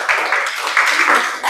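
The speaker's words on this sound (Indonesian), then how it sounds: "tepuk tangan untuk kalian" A classroom of students claps hands together in a dense, sustained burst of applause that swells and eases over a couple of seconds, close and fairly loud.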